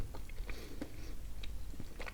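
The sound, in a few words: chewing and crunching candy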